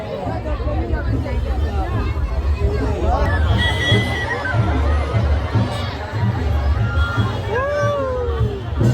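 Dense crowd hubbub at the Harsidhi temple during aarti, a steady close wash of many overlapping voices with occasional higher calls cutting through, and nearby people talking over it.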